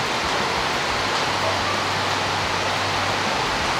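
Heavy, unbroken typhoon rain pours down steadily, a dense broadband hiss that fills the air from start to finish, with a faint low hum running underneath for a stretch in the middle.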